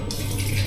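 Water pours steadily into a cooking pot for chicken liver adobo, a continuous splashing stream that stays even and close for the whole moment, with no talking.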